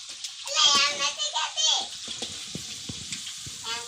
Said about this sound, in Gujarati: ને હવે છે ને તો આ બીજી વાર તળાના